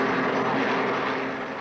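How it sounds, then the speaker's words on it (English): A Royal Navy Lynx helicopter, flying from the frigate HMS Broadsword, gives off a steady broadband engine and rotor roar that holds level throughout, loud and close with no voices. "The helicopters that operate from Broadsword are the Lynx"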